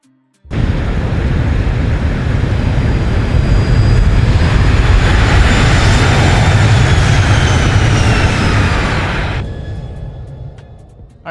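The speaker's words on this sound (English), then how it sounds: "I love watching the landings in X-Plane" An airliner comes in to land in the X-Plane flight simulator at the Gold Coast, Australia: a sudden loud roar of jet engines and rushing air with a rising whine holds steady, then cuts off sharply and fades away.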